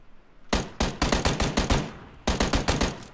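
Rapid bursts of gunfire from the video game PUBG, a cluster of sharp shots followed by a short pause and a second burst, loud and close with no talking.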